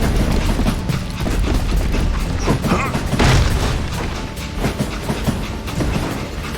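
A steam-era train rumbles along in the Call of Juarez Gunslinger western game, a loud, continuous mechanical roar with rhythmic clanking and clattering wheels and occasional heavy booms.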